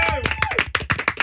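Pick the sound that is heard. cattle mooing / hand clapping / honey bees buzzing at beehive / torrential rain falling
hand clapping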